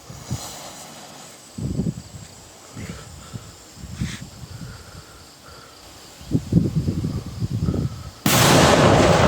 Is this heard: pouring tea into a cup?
no